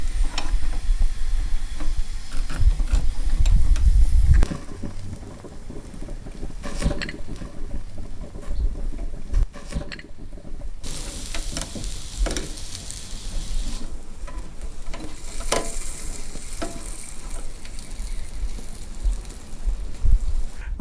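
Ground chicken koobideh kabab cooking and being turned, a close steady sizzle and hiss with occasional clatter of turning, heavier low rumble at the start.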